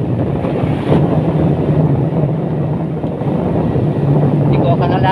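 Wind roaring over the microphone while riding a motorcycle on the road toward Puerto Princesa, a loud continuous low buffeting rush with a faint engine drone throughout.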